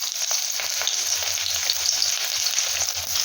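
Onions and small-cut chicken pieces fry in hot oil in a wok, giving a loud, even, close sizzle with a few soft stirring clinks and no talking.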